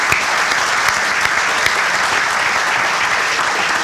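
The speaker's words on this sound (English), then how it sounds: "Let's give all of them a big round of applause." Sustained audience applause at the Dowdy-Ficklen Stadium southside renovation groundbreaking, a dense, steady wash of many hands clapping at even loudness throughout, with no talk over it.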